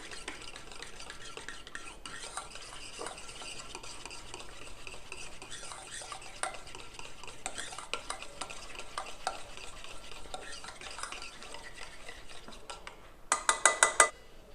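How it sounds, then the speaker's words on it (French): A homemade collagen day cream being stirred thoroughly with a utensil in a container, a steady scraping and swishing that runs continuously, close and moderately loud, ending in a few sharper clinks. "mélangez vraiment bien, il faut bien que tous les éléments soient liés ensemble"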